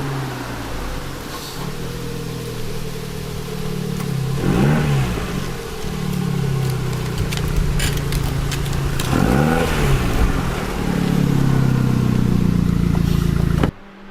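An Abarth 695 XSR Yamaha Limited Edition engine revs repeatedly through a throaty Akrapovic exhaust, rising and falling in pitch with loud blips, close by, with no talking.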